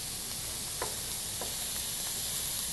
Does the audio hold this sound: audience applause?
no